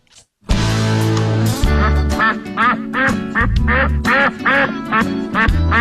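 Repeated loud duck quacks, a rapid series of nasal calls in bursts, play as a sound effect in a radio ad for a rubber duck race event.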